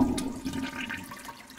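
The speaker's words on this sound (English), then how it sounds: "let me flush the water." A toy toilet flushes with a steady rush of water for the full moment, close and fairly loud, with no talking over it.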